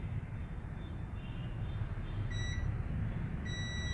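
A repair setup on a Mi Note 6 Pro board gives two short electronic beeps, a high steady tone sounding twice near the end, over a loud constant low rumbling background.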